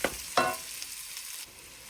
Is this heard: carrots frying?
yes